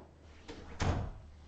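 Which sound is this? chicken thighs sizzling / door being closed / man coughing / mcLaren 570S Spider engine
door being closed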